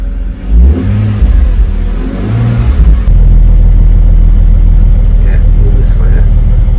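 A BMW Z4 3.0 engine misfiring, revved up in two rough, uneven bursts, then settling into a loud, close, lumpy running drone, with voices talking over the start.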